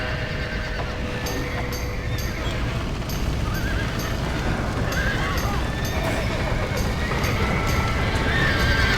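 Horses neighing and whinnying amid clip-clopping hooves in the Red Dead Redemption video game, a dense, busy barn scene with repeated sharp whinnies over constant shuffling hoof noise and background commotion, no clear talk.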